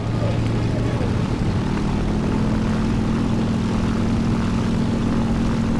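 A propeller aircraft engine drones in the War Thunder combat game, a loud continuous buzzing roar with a steady low hum that shifts slightly in pitch, alone throughout.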